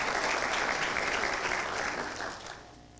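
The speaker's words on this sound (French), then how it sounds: "c'est les applaudissements." An audience at an optics forum round-table conference applauds, a dense sustained wash of clapping that fades out steadily toward the end.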